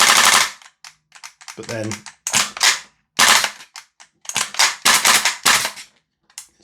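A GHK G5 hybrid airsoft rifle fitted with a TAPP low-power nozzle fires on semi-auto, giving several sharp, loud cracking shots in irregular bursts, with a voice speaking briefly in between.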